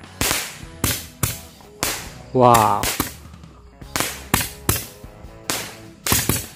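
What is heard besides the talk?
tora-tora firecrackers exploding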